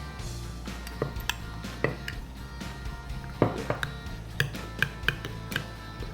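Melted butter, sugar and sour cream being stirred in a mug for a keto chocolate mug cake: light, irregular clinks of a spoon against the mug over a steady low background hum, close and fairly quiet.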